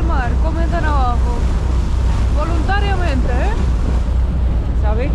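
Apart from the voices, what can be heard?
boat moving through Arctic sea water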